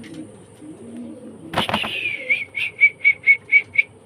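A pigeon, a grizzle pied bird kept for sale, gives a loud flapping burst followed by a steady series of eight or so rhythmic coos, close by with no talk.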